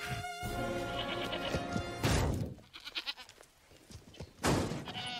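Goats bleat loudly in a Farmers Insurance commercial, with a long wavering cry followed by a sharp crash and scattered rustling, then another bleat near the end.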